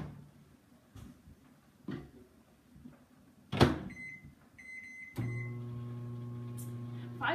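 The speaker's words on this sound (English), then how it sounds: "put it in the microwave for 5 minutes" A microwave oven cooking chicken in a lidded square steamer for five minutes, heard as a steady close, low hum that starts after a door thud and a few beeps and sits alone in the kitchen.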